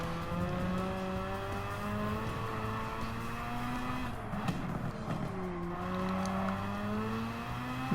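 A Mazda RX-7 races in Gran Turismo 7, its engine holding a steady loud droning whine with tonal layers that dip and climb as the revs shift, continuous throughout from the cockpit view.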